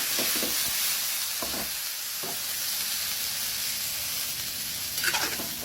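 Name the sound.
pork ribs sizzling in pot for sinigang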